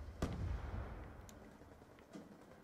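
A distant explosion in Call of Duty Black Ops 2 multiplayer, a single muffled boom early on followed by a low rumbling tail, faint and far off with light battlefield noise after.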